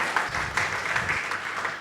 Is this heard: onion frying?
no